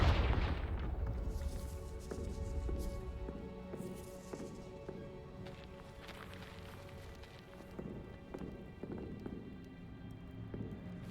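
A Confringo blasting spell goes off in Hogwarts Legacy at a castle gatehouse: one loud booming burst at the start, then rumbling debris and scattered cracks fading under steady game music.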